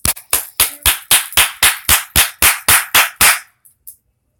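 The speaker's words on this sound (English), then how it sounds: "Let's do a clap for that one." Steady, evenly paced clapping, about a dozen sharp claps in unison at a brisk beat, loud and close, ending with two fainter stray claps.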